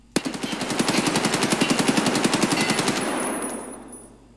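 A sustained automatic burst from an AKS-74U in Escape from Tarkov: about three seconds of rapid, evenly spaced, loud close shots, then an echoing tail that fades out.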